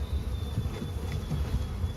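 Honeybees in a very weak hive give a low, steady buzzing hum, close and continuous without pause, with no voices over it.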